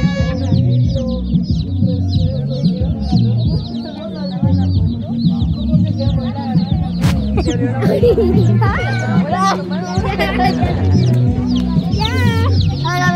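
Chicks and hens cluck and cheep busily at feeding time, close and lively, while excited voices talk and laugh over the flock throughout.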